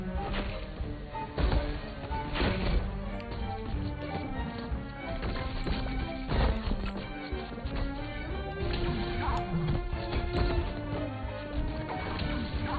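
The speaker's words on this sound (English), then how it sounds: "I feel like I've smashed into a couple of the same ones a few times, and they just sort of bounce back." Repeated smashes and clattering collisions as objects crash into each other in the video game Deformers, a dense, busy run of impacts layered over continuous game sound with no talk.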